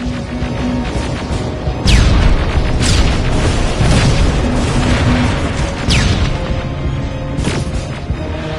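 Heavy rocket blasts in a Terminator video game, a sustained loud rumbling barrage with several sharp whooshing impacts spaced a second or so apart over a constant roar.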